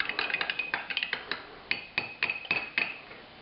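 A utensil stirs ground spices into 60 grams of passata in a bowl, making a quick series of sharp, close taps and scrapes at an uneven rhythm, fairly quiet, with no talking.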